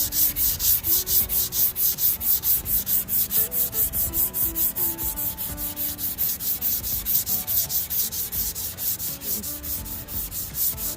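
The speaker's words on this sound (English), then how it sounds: "I'm going to continue sanding by hand" Hand sanding of pine wood: a steady, close scratchy rub repeating in quick even strokes throughout, with no voices.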